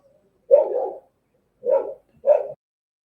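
Dogs bark in three quick bursts, a longer volley followed by two shorter ones, close and clear with no talking.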